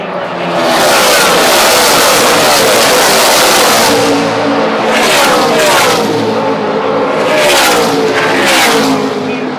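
NASCAR Camping World Truck Series trucks race at Las Vegas Motor Speedway, a loud continuous roar of engines from a pack exiting a turn, with several passing swells of revving as trucks sweep by close.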